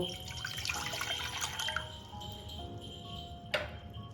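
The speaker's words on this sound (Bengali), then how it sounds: "এর মধ্যে আমি না পরিমাণ মতন জল দিয়ে দেব" Water pours into a large bowl for cooking noodles as a close, trickling splash with ringing tones, steady for a few seconds, then ending in a brief louder splash.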